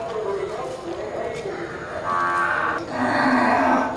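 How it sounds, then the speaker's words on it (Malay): Large Simmental cattle at a busy Indonesian livestock market before Eid al-Adha give long, drawn-out moos that swell louder toward the end, over crowd noise and voices. "Sapi simental super nih kategori sapi kurban dan sapi megang nih ya."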